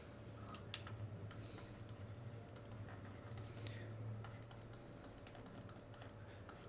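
Quick, light keystrokes from a computer keyboard while Python code is typed, coming in short irregular bursts of clicks that sit close and quiet, with no speech over them.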